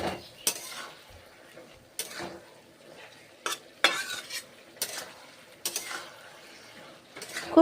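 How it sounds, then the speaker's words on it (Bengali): Noted greens (note shak) curry being stirred in a pan, with a utensil scraping and clinking against the metal in irregular bursts over a soft background sizzle, close and fairly quiet, with no talking. "তারপরে নেড়ে চেড়ে রান্না করছি শাকের তরকারি, নোটে শাকের তরকারি"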